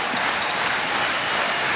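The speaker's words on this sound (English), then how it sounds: "And this crowd is not going to let up." Dense, steady roar of a basketball crowd cheering inside Sacramento's Arco Arena during a Kings versus Clippers game in 1985, a continuous wall of noise with no break.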